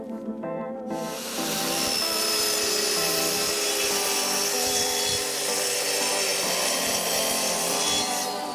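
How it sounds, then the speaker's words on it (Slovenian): A plunge saw cuts wooden shelves in a continuous loud, rasping whine that starts after a brief quiet moment and holds steady to the end. "Začnemo s tem, da odrežemo police in zato uporabimo potopno žago."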